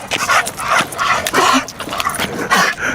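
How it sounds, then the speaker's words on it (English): A dog barks and whimpers outdoors, a few sharp yips and barks in quick succession at close range, with no talk over them. "What was he barking at?"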